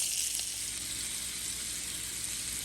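Smoked meat browns in a hot pan with a steady, continuous sizzle that holds at an even level throughout, close and unbroken, with no voices.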